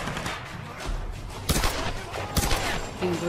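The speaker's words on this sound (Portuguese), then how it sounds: "Um tiro" Gunfire in the video game Tomb Raider: two sharp, loud shots about a second apart stand out over a steady background of game ambience and rumble.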